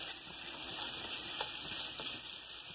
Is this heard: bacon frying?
yes